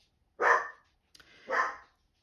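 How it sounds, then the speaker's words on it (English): A dog barks twice, two sharp, fairly close woofs about a second apart against a quiet background. "Douglas is barking at something."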